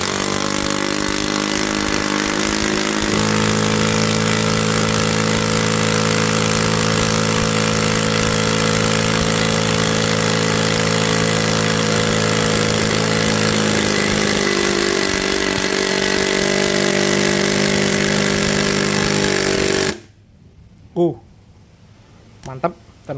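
A Tekiro cordless brushless impact driver runs loud and continuous with a steady whirring motor tone and hammering rattle that shifts pitch partway through, then stops abruptly, leaving quiet with a few faint clicks.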